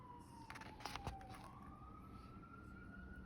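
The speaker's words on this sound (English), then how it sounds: "excuse the sirens" Emergency vehicle sirens wail outside, faint and distant, with a slowly shifting tone and a few brief knocks nearby.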